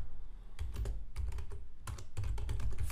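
Code being typed on a computer keyboard, a quick irregular patter of close, soft key clicks in short bursts with brief gaps, no voices.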